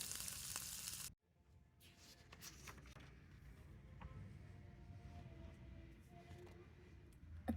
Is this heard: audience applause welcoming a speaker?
no